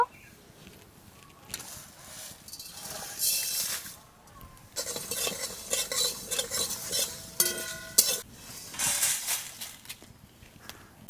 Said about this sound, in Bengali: গোটা ধনে, গোটা জিরে, এলাচ, দারচিনি, তেজপাতা, শুকনো লঙ্কা একসঙ্গে ভেজে নেব।